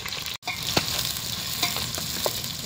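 Onions fry in cooking oil for a chicken fry, a steady close sizzle broken by occasional stirring scrapes and clicks of a utensil in the pan, with no talk.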